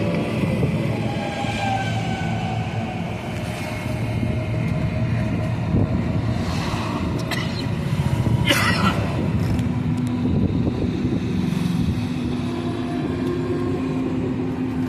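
A train passing close by, a loud continuous rumble with rattling and metallic squeals that holds steady for the whole stretch, no voices heard.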